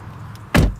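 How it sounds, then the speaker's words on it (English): A 2020 Land Rover Defender door swings shut from inside the cabin, landing as one loud, solid, low thunk after a quiet moment, then fading quickly. "we're going to close the door."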